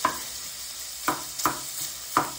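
Sausage browns in a hot pan as it is broken up for a Southern sausage and rice dish: a steady close sizzle with four sharp scraping strokes spaced about a second apart, no voices.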